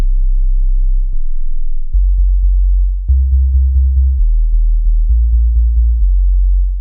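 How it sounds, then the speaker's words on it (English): Deep synth sub bass from a Fourm synth, a sustained low tone with the attack softened to remove the click, changing pitch in short steps and stabs, loud and alone without voices. "that's just a beautiful sub that sits underneath everything"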